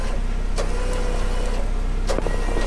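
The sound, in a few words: Jeep being pulled forward on a trail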